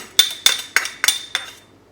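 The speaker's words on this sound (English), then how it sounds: "I'm just going to go ahead and use my knife here to get it out of the bowl" A knife knocks garlic out of a bowl in five quick, bright metallic clinks with a ringing tone, evenly spaced and close, fading after the last tap.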